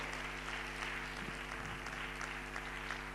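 A church congregation claps together in a steady wash of applause, moderately loud, with a low constant hum underneath.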